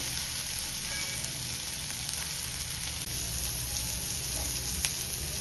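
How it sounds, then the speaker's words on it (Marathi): Chopped onion fries with salt in a pan, giving a dense, continuous close-up sizzle with only faint scattered ticks of stirring. "कांदा लवकर तांबूस रंग यावं कांद्याला म्हणून मी थोडंसं मीठ पण टाकून देते."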